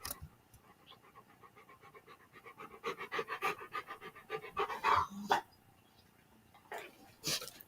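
Dog panting with rhythmic breathy huffs close by, rising in bursts through the middle and again near the end, with brief soft vocal sounds mixed in.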